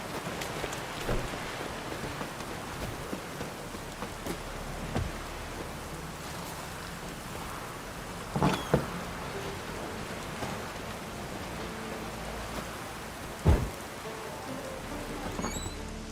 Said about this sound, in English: It rains back again. It's raining.